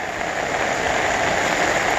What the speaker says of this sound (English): at the rate it's raining and how much water's out here